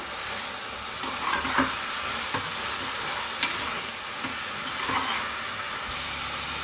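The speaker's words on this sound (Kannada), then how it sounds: "ಮಸಾಲೆ ಎಲ್ಲ ಚೆನ್ನಾಗಿ ಫ್ರೈ ಆಗಿದೆ" Masala with coriander, mint and tomato fries for chana pulao, a continuous close sizzle broken by scattered scraping stirs of a spoon against the pan, with no voices.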